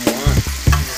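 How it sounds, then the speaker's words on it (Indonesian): Hot oil sizzles and crackles loudly up close as snakehead fish fries, with bursts of stirring and scraping in a pan. "Bapak Rizal menggoreng ikan gabus hasil dari pancingan."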